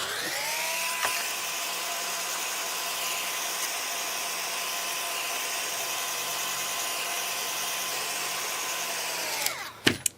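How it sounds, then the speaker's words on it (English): A heat tool blows steadily to dry damp craft pieces, a loud continuous whirring hum with a high whine that holds nearly the whole time, then cuts off abruptly near the end with a couple of clicks. "Then I'm going to take my heat tool and I'm going to dry them."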